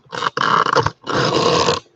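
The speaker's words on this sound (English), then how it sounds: "you've got to stop barking" A dog lets out two close, loud, rough bursts, gruff barks with a growling edge separated by a short pause, with no talking.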